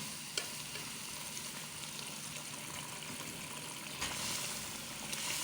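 Masala for lobia daal sizzles and crackles in a pan while being stirred, a soft, steady hiss with occasional scrape and clink accents, faint and alone.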